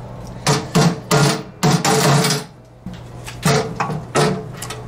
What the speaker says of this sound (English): And then using a hammer in this area,